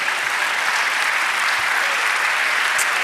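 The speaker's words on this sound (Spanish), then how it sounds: "Dale un aplauso al Señor." A church congregation applauding during a Spanish-language sermon, loud continuous clapping close by and unbroken throughout, with no voices above it.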